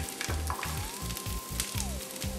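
Chopped onion sizzling in olive oil in a pot over medium heat, a loud, steady frying hiss that runs unbroken throughout, with low soft thumps beneath it.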